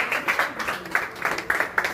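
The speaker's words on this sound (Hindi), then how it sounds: "क्रम में परिग्रह के लिए आ रही है स्वाति और जोरदार तालियों के द्वारा।" Audience applause at a women's federation gathering in a hall, a steady run of hand claps lasting a couple of seconds with rhythmic peaks.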